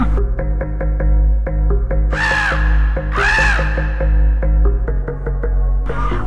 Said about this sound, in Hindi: कौवा कांय कांय कर रहा था।